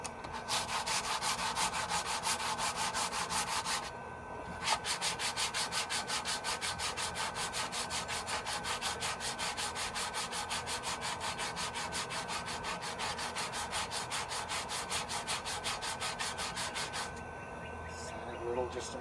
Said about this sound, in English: Sand it a little just to make it smooth.